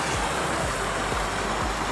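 Waterfall spilling into the base of a backyard recreational pond-style swimming pool, a steady broadband rush of falling water with low splashing thumps recurring every half second or so, close and continuous with no talk.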